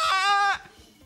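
A person mimics a goat bleat in one short, loud, trembling cry lasting about half a second, which then stops abruptly into near silence.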